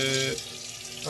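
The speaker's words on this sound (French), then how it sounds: "On peut rincer nos graines germées." Sprouted seeds rinsed under a running tap into a sink, a brief splashing stream of water that shifts in tone as the flow hits the seeds.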